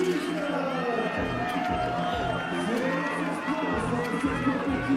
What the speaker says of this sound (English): The crowd is psyched again.